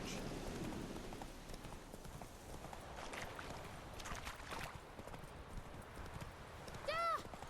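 Hoofbeats of Roach, Geralt's horse in The Witcher 3, clatter steadily under rain-like noise and voices, with a short whinny-like call near the end.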